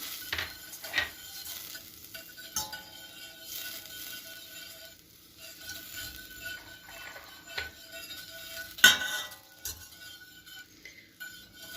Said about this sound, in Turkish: tereyağımızı eritiyoruz